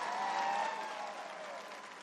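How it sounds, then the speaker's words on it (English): A crowd applauds the sailors of the USS Kearsarge, a short burst of distant, steady clapping that fades slightly toward the end. "let's give a big round of applause to the men and women of the majestic"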